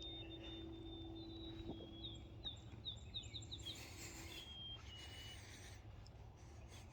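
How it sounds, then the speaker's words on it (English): Birds chirping at a beach in early morning, faint, scattered high calls in a quiet outdoor setting with a low steady background rumble. "You just listen to the birds."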